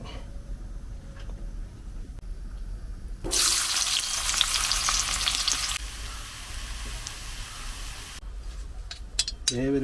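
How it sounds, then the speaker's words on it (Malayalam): Ghee heating with onions bursts into a loud sizzle for a few seconds in a pan, then quiets to a low hiss amid kitchen clatter. "നെയ്യൊന്ന് ചൂടായി തിളച്ചോട്ടെ"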